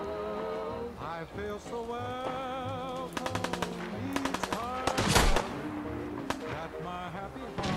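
Gunfire in Fallout 4, a rapid automatic burst followed by scattered single shots and one heavy blast, set against game music with sustained tones and a low rhythmic pulse; a voice talks faintly under it.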